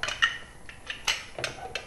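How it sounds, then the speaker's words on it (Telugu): A lid goes onto a cooking pot holding carrot pieces, moong dal and water for carrot kootu, making a few light metallic clinks and taps spread across a quiet kitchen moment. "మూత పెట్టేసేయాలి."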